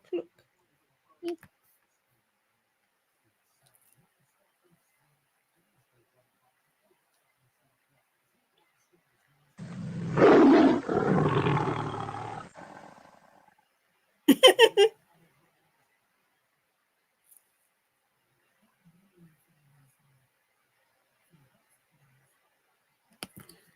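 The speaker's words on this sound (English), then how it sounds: "That was Ninny-wig identifying as a tiger" A pet's yawn that rumbles like a tiger's roar: one drawn-out, throaty sound lasting about three seconds in an otherwise quiet room, followed by a few faint clicks.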